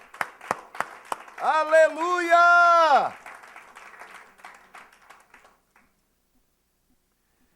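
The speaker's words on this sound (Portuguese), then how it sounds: "Vale um aplauso, gente, pelo amor de Deus." A church congregation breaks into a short burst of clapping while one voice cries out a drawn-out hallelujah, then the applause and crowd noise trail off into silence.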